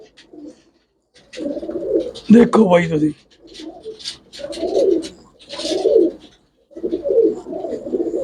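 Pigeons of the lakka breed coo in short throaty bursts at close range, recurring through the stretch, while someone talks over and between the calls.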